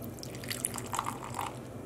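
Water trickles and drips into a dye mixture in a few faint, close splashes and patters over a low steady background.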